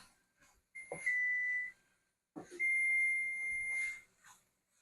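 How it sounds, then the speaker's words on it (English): Two long, steady electronic beeps from an oven signaling it has preheated ring out close by, the second lasting noticeably longer than the first, with quiet gaps around them. "the oven is preheated now"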